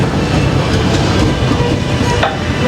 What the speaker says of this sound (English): As we arrive into the station, please remain seated until the train comes to a full and complete stop